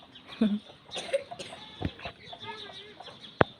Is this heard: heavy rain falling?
no